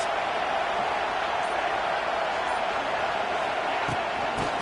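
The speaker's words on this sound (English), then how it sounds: "Listen to this crowd just shaking the girders of this place, trying to help their defense." Football video game stadium crowd roars as the home defense is cheered on, a dense, steady wall of distant noise that holds evenly throughout.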